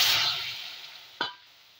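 Mango pieces hit hot oil with popped mustard seeds and a dried red chili, giving a bright hiss that quickly fades, followed by a single soft knock of a utensil.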